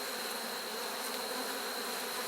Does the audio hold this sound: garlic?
no